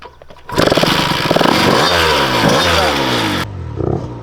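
A mini bike fitted with a swapped-in Honda CR80 two-stroke engine and a loose chain revs hard and close for about three seconds, its raspy pitch rising and falling, then cuts back to a quieter idle.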